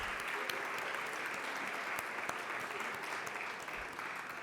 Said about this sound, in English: Round of applause again to our special guests.